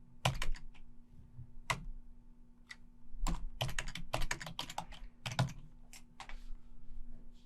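Computer keyboard being typed on in short bursts of crisp, close key clicks with brief pauses between groups, entering a target IP address, over a faint steady background hum.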